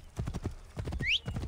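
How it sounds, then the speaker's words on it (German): A horse summoned in the video game Assassin's Creed Origins gallops with quick, close hoofbeats and gives a short high whinny partway through, with no talking over it. "So, wir rufen mal unser Pferdchen, um zu der nächsten Mission hinzureiten."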